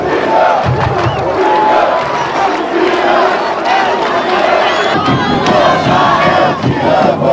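Football supporters in a stadium fill the air with loud, steady crowd chanting and cheering that swells and never lets up.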